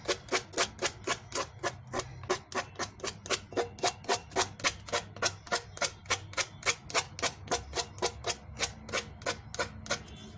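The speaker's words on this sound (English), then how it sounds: "I will need to sand this off to give it a clean finish." Sandpaper scrubs over decoupage tissue on a piece of furniture in quick, even back-and-forth strokes, about three per second, close and rasping, with no talking.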